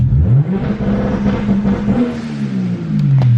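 A BMW 335i engine fitted with a big turbo revs and holds a steady, rising drone with a whirring turbo whine building over it, loud and continuous throughout, in heavy rain.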